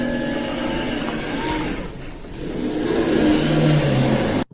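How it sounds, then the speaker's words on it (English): A robot's DC motor actuator whirs as it runs, a loud, close mechanical whine that holds steady, dips briefly, then rises in pitch and intensity before cutting off abruptly, with no talking. "Consequential sounds are the sounds a robot is forced to make due to their actuators as they operate"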